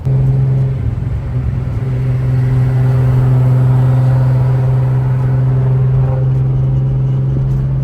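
A turbocharged Nissan 350Z cruises along with a steady, loud engine drone and low rumble, holding an even note throughout with no talking.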